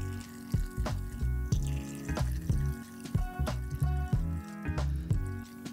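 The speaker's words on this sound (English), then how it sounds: "I just take soap and water and I kind of swirl them around and I fill each one of them up like this." Soap and water poured and swirled into small tattoo ink caps, a run of splashy pours and wet trickles with sharp drips and taps, close and fairly loud, coming in uneven bursts.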